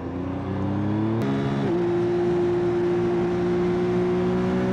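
Close 2025 Yamaha XSR900 motorcycle engine drone with a sharp click and quick jumps in pitch as the throttle is blipped, then a steady, even hum.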